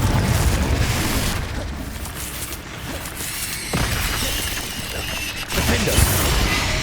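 A Confringo fire spell explodes during combat in the Hogwarts Legacy video game, with dense booming blasts and crackling debris layered over continuous battle noise and brief shouted voices.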